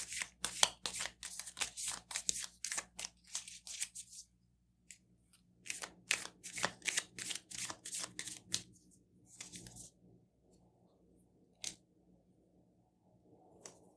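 Tarot cards are shuffled by hand in quick rhythmic bursts of riffling and slapping, with a few pauses between runs and scattered lighter taps near the end.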